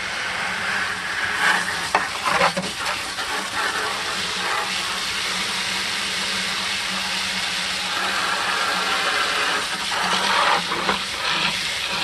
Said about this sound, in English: now I'm going to go ahead on and put some water in here.